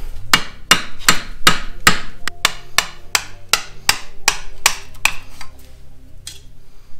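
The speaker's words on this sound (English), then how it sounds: "how long we could go without hitting a new vehicle with a hammer" Metal hammer blows strike parts of a new Honda Rebel 1100 motorcycle being taken apart, about a dozen sharp, loud, evenly spaced bangs with ringing decay, slowing and thinning toward the end.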